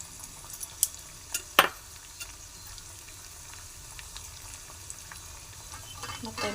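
Dried chillies and cashews frying in a little ghee for ghee rice, a faint soft sizzle with a few sharp clinks and scrapes of a spoon early on, then quieter crackling.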